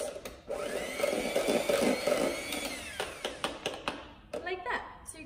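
Egg whites being mixed in a bowl until fluffy: a loud, steady whirring motor drone for about three seconds, then scattered clicks and taps with a voice talking over them.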